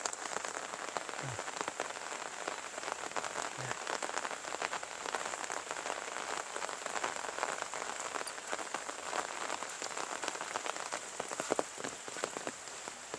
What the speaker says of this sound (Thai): เมื่อฝนตกอย่างเงี้ย